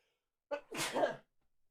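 One close sneeze from a person, a short inhaled catch followed by a sharp burst, then quiet.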